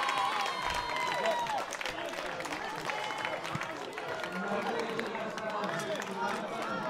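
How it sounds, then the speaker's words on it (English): Crowd at a para archery recurve final cheering and applauding, a dense, loud, steady roar of clapping and shouts across the whole stretch, with indistinct voices mixed in. "The crowd's going wild. We can barely hear ourselves down here."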